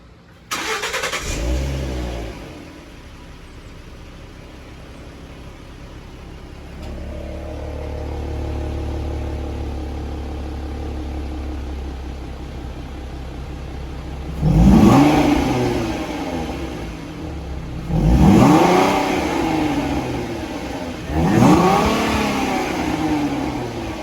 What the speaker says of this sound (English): That's stock exhaust